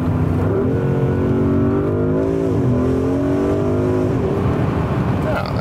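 A car engine and exhaust rev loudly and steadily nearby, rising and dipping in pitch, with a deep rumbling drone throughout.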